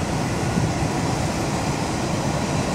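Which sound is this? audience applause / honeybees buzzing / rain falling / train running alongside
train running alongside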